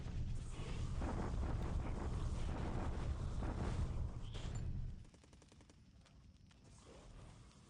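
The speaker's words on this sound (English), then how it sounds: "I'm definitely getting the worst of this artillery exchange, doubly so." Artillery and gunfire exchange in a World War II strategy game, a rumbling barrage of blasts and rattling fire that cuts off abruptly partway through, leaving a quieter stretch with faint scattered pops.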